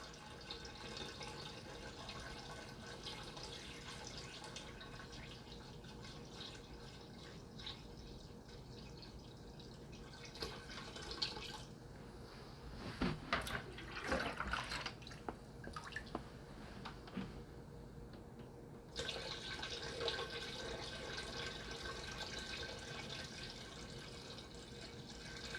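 Water pours steadily into an aquarium tank onto a rock over the substrate, a faint continuous splashing gush with brief louder bubbling bursts midway, no voices.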